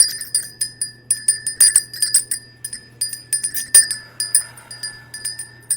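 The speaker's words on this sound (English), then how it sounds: "I feel like we just need to ring our blessing bell." A small blessing bell rings repeatedly in a quick, steady rhythm, each bright metallic strike decaying briefly before the next, loud and close with no talking.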